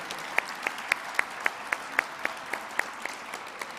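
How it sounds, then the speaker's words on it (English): Sparse, evenly spaced claps ring out at a PWHL announcement ceremony in Detroit, about a dozen sharp hand claps in a steady rhythm against a quiet room. "How about one more big round of applause for all of these people that made this happen here in our great city?"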